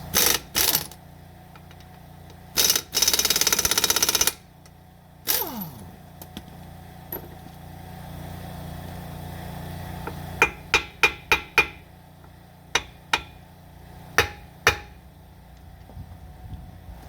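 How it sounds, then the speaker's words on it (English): A hammer strikes the outer tie-rod on a 2003 Chevy Express G3500 6.0L van, sharp metallic blows that come first in a few heavy bursts and then as a run of separate, ringing hits, close and without talk. "I'm gonna hit on this side and put pressure"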